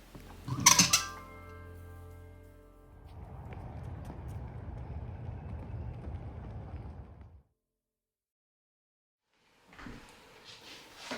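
A sewing machine stitching children's pants runs in a steady mechanical whir for about four seconds after a sharp click, stops into silence, then starts again briefly near the end.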